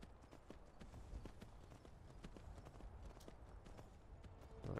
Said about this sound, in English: I stole a horse from these Stormcloaks, Logan, and they don't even care.